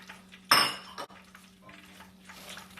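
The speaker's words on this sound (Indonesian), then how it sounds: "kita aduk." Fried chicken in honey garlic sauce with crispy fried scallions being stirred in a pan: a loud clattering scrape of utensil against pan, a second knock, then softer clinks and faint sizzling.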